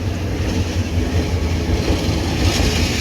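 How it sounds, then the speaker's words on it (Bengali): A passenger train runs steadily through the countryside, its loud continuous rumble and low rolling wheel noise filling the carriage without a break. "এই সুন্দর প্রাকৃতিক সৌন্দর্য দেখতে দেখতে আমরা হচ্ছে ট্রেন জার্নি করছি"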